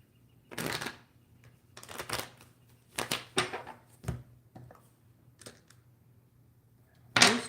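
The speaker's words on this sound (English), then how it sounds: "Let's go ahead and shuffle these cards in." Tarot cards are shuffled by hand in a series of short riffling bursts separated by brief pauses, close and crisp, ending in a sharper snap, with no talking.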